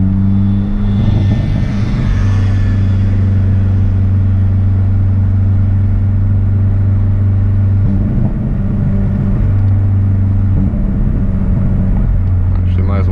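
A Hyundai Veloster N with its exhaust opened up and an SXTH Element intake holds a loud, steady droning rumble, broken by a few short rev blips and throttle flutters early, midway and near the end.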